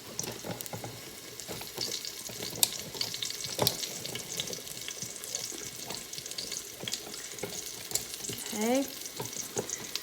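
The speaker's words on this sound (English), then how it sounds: "Now you can hear that sizzling." Chicken pieces sizzling and crackling as they brown in a hot Instant Pot, a steady frying hiss with occasional clanks and scrapes; a voice says a word briefly.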